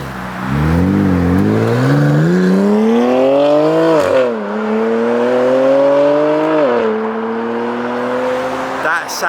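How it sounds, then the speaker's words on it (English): A BMW M4 with S55 engine and loud aftermarket Valvetronic exhaust does a flyby on a main road, its revs climbing in a long, loud rasping pull that sweeps up, dips and rises again, with no pause for nearly ten seconds. "Valvetronic have literally made this S55 come alive."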